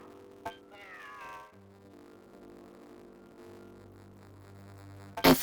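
A cat in Genshin Impact meows once, a clear rising-and-falling mew close up over a low steady hum of game background music, followed by a short burst of noise at the end; no talking.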